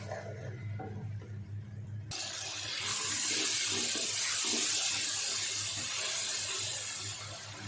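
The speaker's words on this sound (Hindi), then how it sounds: "थोड़ा थोड़ा पानी भी डालते जाएं ताकि मसाले जले नहीं।" Water splashes into hot frying spices for chana dal, a sudden loud, hissing rush that jumps in abruptly and holds steady for several seconds before easing slightly, over a faint low hum.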